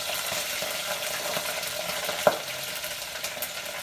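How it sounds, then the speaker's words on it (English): Padrón peppers frying in a pan, a steady soft sizzle with scattered small crackles and one sharp pop, heard close and fairly quiet, with no talking. "and they will pop and sizzle."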